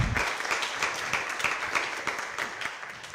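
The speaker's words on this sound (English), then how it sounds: "Please take a bow, round of applause to all of you." An audience claps for the winners of the Pitch4k contest, a steady burst of many hands applauding with crisp, rhythmic slaps that fade slightly toward the end.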